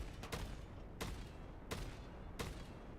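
Gunfire in a Ubisoft video game sounds as four sharp broadband shots spaced about a second apart, each with a quick decay over a steady low background hum.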